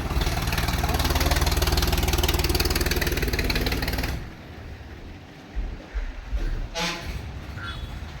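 A vehicle engine drones loudly and steadily nearby as it turns on a rural road, then drops off sharply, leaving quieter background with a few scattered knocks and sounds.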